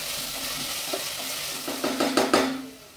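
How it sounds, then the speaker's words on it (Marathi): Ground spice paste sautéing in a pan over medium heat, a steady soft sizzle with scraping stirs of a spoon that grow louder toward the end, no voices. "जे वाटण आपण तयार केलेलं होतं ते घालायचं आणि छान परतून घ्यायचं"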